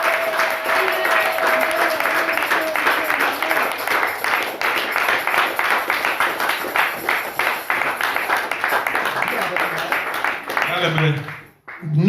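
A church congregation at a worship service applauds steadily and cheers, with dense sustained clapping, voices mixed in and a sustained tone early on, then the applause dies away near the end.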